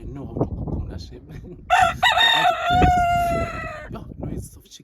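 A rooster crows once, loud and close, a long harmonic call with a falling tail, with someone talking before and after it.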